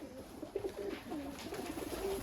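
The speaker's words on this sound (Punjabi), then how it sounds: "100 150 ਕਬੂਤਰ ਬੈਠਾ ਹੈ" A large room holding 100 to 150 pigeons, soft overlapping cooing throughout at moderate level against a steady hum, with no speech.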